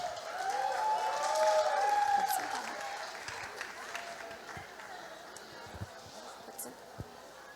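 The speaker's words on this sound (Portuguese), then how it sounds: "salva de palmas para a Bia Fiuza" Audience applause at the WindsForFuture 2022 festival welcoming Bia Fiuza to the stage, a broad steady clapping that is strongest early on and then eases into softer scattered claps and crowd murmur.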